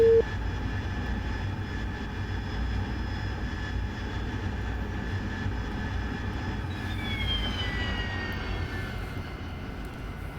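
A jet aircraft engine in the DCS flight simulator runs up to a steady, loud roar with a rising whine.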